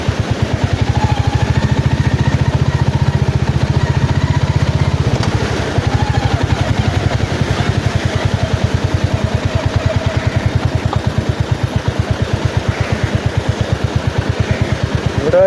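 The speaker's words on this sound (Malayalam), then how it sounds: "ബീച്ചിൻ്റെ സൈഡ് വഴി നമ്മളിങ്ങനെ ബൈക്ക് ഓടിച്ച് പോവുകയാണ്." A Royal Enfield Hunter 350 motorcycle ridden along the side of Kollam beach, its engine a loud, steady, close thumping drone that dips briefly and then holds an even rhythm throughout.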